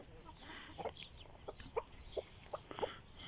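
Chickens cluck in scattered soft bursts against a faint outdoor background. The birds sound a little distant.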